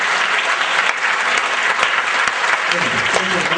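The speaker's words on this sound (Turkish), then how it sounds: "bizim ödülümüz bir daha alkış bu kardeşlerimize" Dense, sustained applause from a crowd at a Quran recitation competition, loud and continuous throughout with no pauses.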